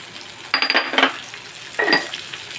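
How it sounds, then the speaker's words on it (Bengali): Jackfruit seeds fry in a pan with a spatula, giving two bursts of scraping, sizzling stirring separated by a quieter simmer, heard close up with no speech. "কাঁঠাল দানাটা এমনি এমনি করে শুধু ভেজে নিতে হবে"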